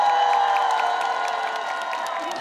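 Outdoor festival crowd at the first Hoeyagang Festival cheering and clapping for a singer, a brief loud burst of cheers and applause that slowly fades.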